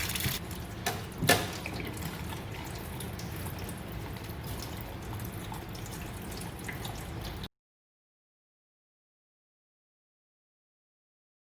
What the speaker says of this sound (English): Put a little water in there and wash off the potato